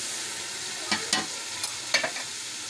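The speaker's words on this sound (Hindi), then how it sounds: "तो लहसुन अदरक अच्छे तरीके से घी में फ्राई हो चुका है," Garlic and ginger frying in ghee for Lahori chicken pulao make a steady, bright sizzle, with a few short stirring scrapes and taps standing out over the hiss.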